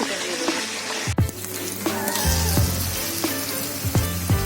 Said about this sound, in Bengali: মাংসটা হালকা করে ভেজে নেব